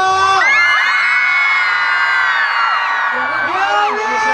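A huge crowd at an outdoor concert and celebrity event in Miaoli screams and cheers at full volume, with a sustained wall of shrill voices and whoops that holds for several seconds, dips briefly, then surges again.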